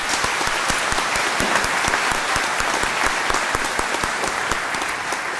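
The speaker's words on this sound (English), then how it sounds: "I ask that we give a huge round of applause for all of our winners this afternoon." A graduation ceremony audience applauds its award winners with sustained, loud, dense clapping that fills the hall throughout without pause.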